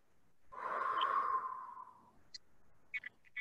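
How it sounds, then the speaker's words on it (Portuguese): One deep, slow breath during a guided breathing exercise, a long airy exhalation of about a second and a half, close and clear, followed by a few faint short clicks and rustles. "Inspira profundamente, prestando atenção na respiração e solta."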